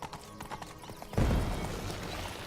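Horse hooves clip-clopping in The Witcher 3 video game, soft rhythmic footfalls that build into a louder, denser galloping rumble over game ambience.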